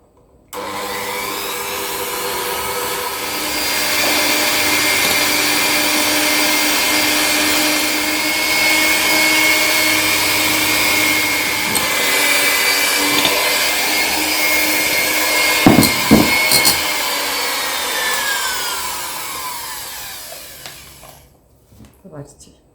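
An electric hand mixer whipping egg whites with sugar, salt and potato starch into stiff foam for an apple cake, a loud continuous motor whine under brief speech, with a few bowl knocks near the end before it winds down.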